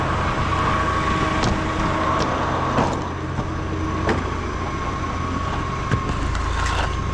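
A hay trailer is pulled out of a farm barn bay, giving a steady, loud low engine rumble with occasional clanks and rattles throughout.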